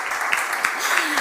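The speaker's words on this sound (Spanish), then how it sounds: "Un aplauso, por favor." Applause from an audience at a technology conference in Spain as a Facebook R&D tech director is welcomed to the stage, a brief, steady patter of many hands.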